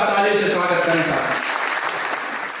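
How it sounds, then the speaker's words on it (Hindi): A large crowd at a BSP party meeting claps to welcome an arriving leader, dense and loud at first and then thinning a little while it carries on. A voice on a public address system talks over the clapping. "एक बार जोरदार ताली से स्वागत करें साहब।"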